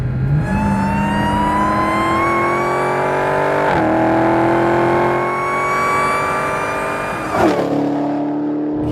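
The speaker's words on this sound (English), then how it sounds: "The blower whine sounds so cool" A supercharged Dodge Challenger Hellcat engine revs hard with a rising blower whine climbing in pitch, broken by two quick gear shifts, loud and close.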